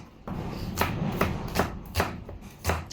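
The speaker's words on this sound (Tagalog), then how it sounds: "Hiwain na natin ating sibuyas." Knife chopping onion on a cutting board while preparing chicken arroz caldo, with about six steady, evenly spaced cuts close to the mic and no talk over them.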